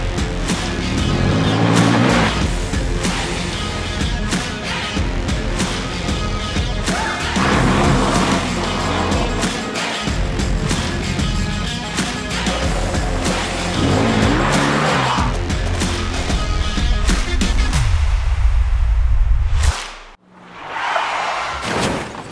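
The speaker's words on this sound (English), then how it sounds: "So we took their street bike and took it back to the dirt where it belongs." Indian FTR 1200 motorcycle ridden hard on dirt, engine roaring and revving loudly and continuously close by, with tire skids, before cutting out abruptly near the end.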